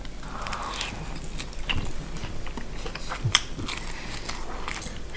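Someone chews shrimp from a seafood marinara pizza topped with mussels and shrimp, making close, steady wet crunching and mastication sounds with a few sharper bites.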